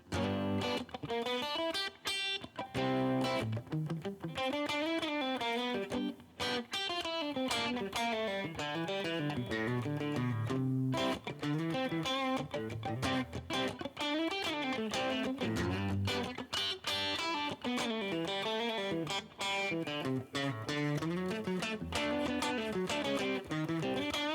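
An electric guitar improvises continuous melodic lines with bends and slides over a chord progression, sustained and moderately loud, with a mild overdriven tone.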